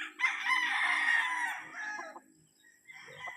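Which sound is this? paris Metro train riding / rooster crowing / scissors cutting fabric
rooster crowing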